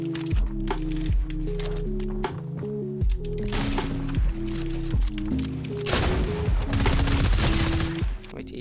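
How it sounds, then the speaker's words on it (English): Rapid Fortnite gunfire crackles in repeated sharp bursts at close range, riding over steady tonal game music, with the shooting growing denser toward the end. "Wait, did you just get shot at?"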